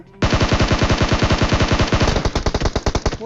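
Rapid automatic gunfire in the PUBG battle-royale game, a long unbroken burst of loud, evenly spaced shots that grows slightly more ragged toward the end, with no talking.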